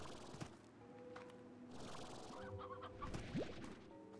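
A hen in the video game Slime Rancher gives a few short clucks among tonal game music and effects.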